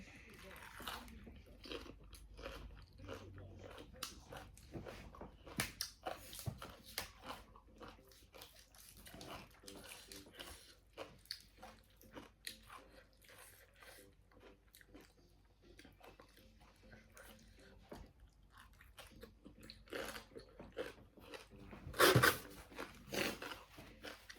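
Someone eats spicy green papaya salad with chicken feet and fish balls, producing close, wet chewing, crunching and slurping sounds in irregular bursts throughout, with occasional louder clicks and bites and some talking mixed in.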